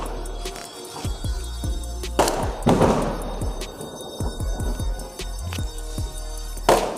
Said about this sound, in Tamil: எல்லாருமே தீபாவளிக்கு பட்டாசு வெடிச்சிட்டு இருக்காங்க. சைடில் அதான் சவுண்டு கேட்குது.